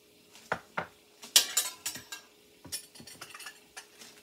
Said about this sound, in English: I'm going to take this spoon here, and I'm going to spoon in these cookie crumbs in the bottom